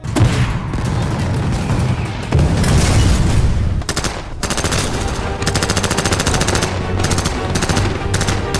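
Loud, dense bursts of rapid automatic gunfire from German machine guns in a WWII battle against Soviet troops, rattling continuously with a brief pause before resuming in sharp repeated volleys.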